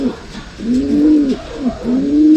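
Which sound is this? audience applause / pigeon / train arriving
pigeon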